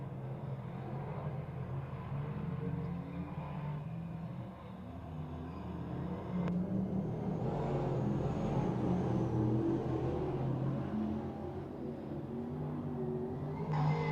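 Dirt track race cars circle the speedway at Glen Ridge Motorsports Park in 2005, producing a steady, somewhat distant engine roar that swells and eases as they pass.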